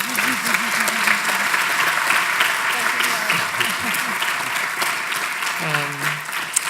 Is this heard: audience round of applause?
yes